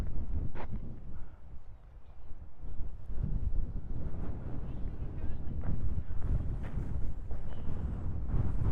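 Wind buffeting an outdoor microphone, a steady low rumble with gusty swells throughout, loud and close.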